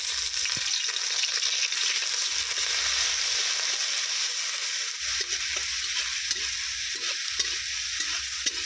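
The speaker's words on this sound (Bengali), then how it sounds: "পেঁয়াজটা আমি তেলের মধ্যে একটু কষিয়ে নেব" Onion paste fries in hot mustard oil, a dense steady sizzle up close with occasional low thumps and scrapes of a spatula stirring the pan.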